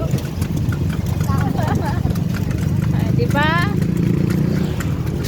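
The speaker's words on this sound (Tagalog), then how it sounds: "Ngayon lang din siya nakasakay ng kabayo." Rhythmic hoofbeats of a horse pulling a carriage clip-clop steadily over an engine-like rumble, with a horse whinnying and people talking over the top.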